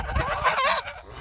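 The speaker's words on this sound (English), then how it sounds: "Those are ducks." Ducks kept near live squirrel traps call out in a short, close burst of nasal cackling lasting about a second, with no talking over it.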